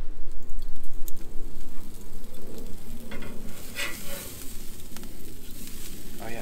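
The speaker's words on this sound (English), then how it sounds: "so let's go ahead and flip them." Two ahi tuna steaks sizzle steadily on a Big Green Egg grill just after being flipped, a loud continuous frying hiss with light crackles and occasional clicks.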